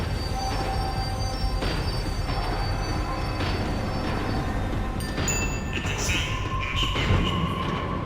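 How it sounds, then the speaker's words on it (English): Tram rumbling steadily as it slows down in the Max Payne 3 video game, with a continuous loud rolling drone and metallic wheel squeal rising near the end. "The tram was slowing down, and I'd only just gotten on board"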